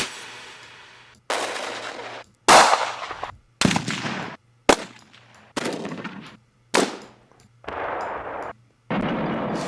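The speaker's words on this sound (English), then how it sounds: "So last but not least, we have the gunshot." A run of loud, close gunshot sound effects from a sound redesign, about nine separate blasts each followed by a booming decay, every shot differing slightly in tone, heard alone without speech.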